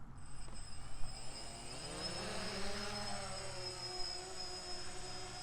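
A DJI Phantom 1 quadcopter carrying a GoPro Hero 7 flies close by, its propellers giving a constant high-pitched whine and buzz, with some wind buffeting underneath.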